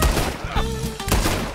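Pistol shots in Red Dead Redemption 2 Online, a few sharp loud cracks in quick succession amid game noise, with a brief voice exclamation.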